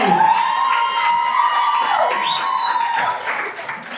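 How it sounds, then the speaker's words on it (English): Audience at a career and entrepreneurship expo applauding and cheering loudly and steadily, with whoops and shouts over the clapping and a sustained tone running underneath. "One more round of applause for Harvey."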